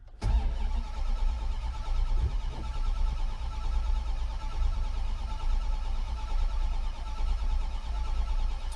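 Mitsubishi D50 truck, cold-blooded with no choke, cranking briefly before catching and settling into a steady low engine rumble that runs loud and close to the end.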